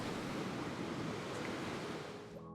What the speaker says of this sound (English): watching this crashing surf